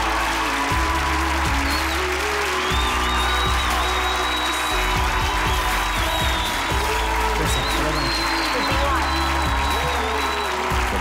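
Sustained applause from a television talent-show audience fills the whole stretch, steady and dense, with a low hum and some voices mixed in.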